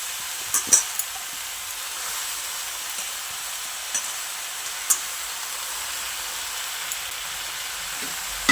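Washed spinach goes into a pan of cooking vegetables, giving a steady soft sizzle with a few sharp clicks and taps scattered throughout.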